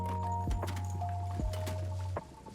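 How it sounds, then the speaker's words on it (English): Once Human video game weapon being unequipped and re-equipped to reload, giving a few distinct mechanical thunks and clicks at a steady pace over a constant low in-game hum, with no talking. "I'm going to unequip and re-equip my gun so I can reload it."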